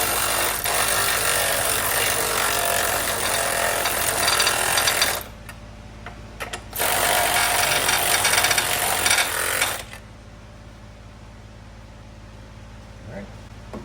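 A hand ratchet tightening the battery hold-down on a Honda Element during a stainless steel 24F battery conversion kit install. It makes two long bursts of rapid, loud clicking close by, separated by a brief pause, then goes quiet.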